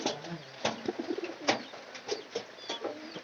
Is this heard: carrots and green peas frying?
no